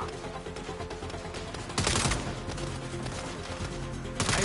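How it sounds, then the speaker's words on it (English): Gunfire in the video game Saints Row: a dense fusillade of rapid shots under game music, with louder bursts breaking out partway through and again near the end. "Just shut up and shoot."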